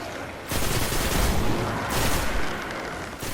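An auto rifle fires in the video game Destiny in dense rapid bursts, loud and close, a sustained rattling roar that briefly dips before continuing.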